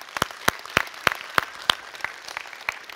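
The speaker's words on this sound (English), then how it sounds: "Yeah, you can clap for that." Scattered church-audience clapping, a handful of sharp, distinct claps in a loose rhythm near the front, thinning toward the end with a soft wash of crowd noise beneath.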